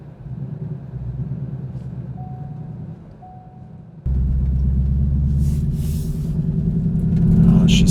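A car engine idles on a driveway after sitting through winter, a close low rumble that grows louder and fuller partway through, as if it is revved or the car pulls away, with faint beeps early on.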